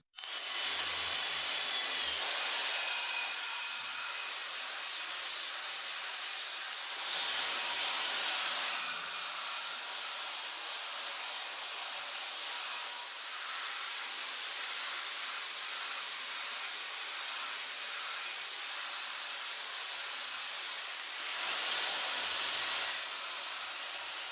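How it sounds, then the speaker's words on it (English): Continuous abrasive hissing of a sanding ball working over the curved legs of an antique wooden table, steady and close, with a few brief surges in intensity and no voices. "we've got this sanding ball, and we're going to use that"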